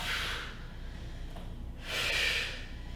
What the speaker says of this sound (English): that's where those strong Pilates exhales really come in handy. Squeeze that air out.